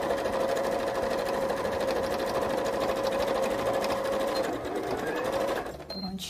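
Sewing machine zigzag stitching on felt, a fast steady mechanical whirring hum close up that runs continuously, then stops abruptly near the end.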